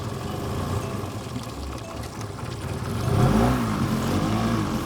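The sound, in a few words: Hidea 9.9 HP outboard boat motor starting and running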